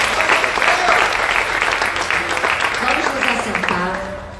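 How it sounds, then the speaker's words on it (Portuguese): Congregation at a church service applauding: loud, dense, sustained clapping from a crowd, with voices and music underneath, fading slightly at the end. "Dá uma salva de palmas para o Senhor"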